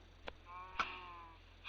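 A cow in a Minecraft-style block game gives two short bleating cries, the second a longer tonal call, over a quiet low hum.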